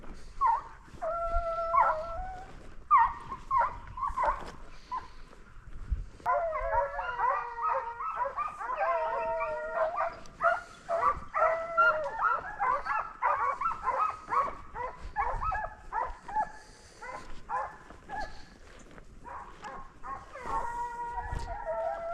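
Pack of hunting dogs on a bobcat hunt barking, yipping and howling almost continuously, several voices overlapping at mid distance, with brief pauses and faint outdoor background.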